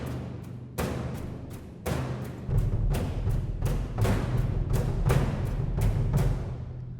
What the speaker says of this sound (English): And then for the percussion, we have some brushes